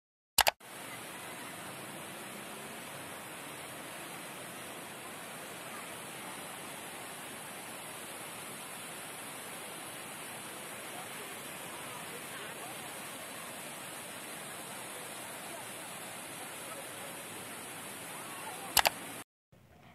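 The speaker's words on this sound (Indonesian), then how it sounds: "air bah meluber ke rumah-rumah warga" River floodwater from Wajak Kidul in Tulungagung pours over into village houses, a dense, steady roar of rushing water that carries on without pause for the whole stretch.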